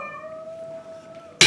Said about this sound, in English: That's my cat out there.